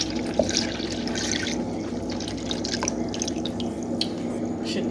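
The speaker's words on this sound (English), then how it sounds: "I'm gonna add some almond milk." Almond milk pours into thick breadfruit punch, a soft steady trickle with light drips and splashes over a low background hum.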